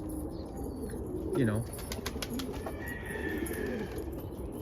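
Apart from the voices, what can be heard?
pigeons cooing at the loft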